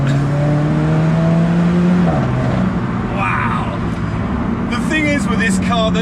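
An Alfa Romeo 4C sports car engine drones loudly and shifts pitch as it revs, steady and near, with a voice talking over it.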